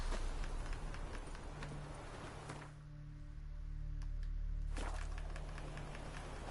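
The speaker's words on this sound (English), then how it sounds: "let me whistle for my horse" Horse hooves galloping in the video game The Witcher 3: Wild Hunt, a steady quick clip-clop over a low ambient game soundscape, faint and alone without speech.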